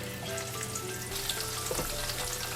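Zucchini slices coated in flour and dipped in water, frying in hot oil in a pan, a close, steady crackling sizzle with small pops throughout.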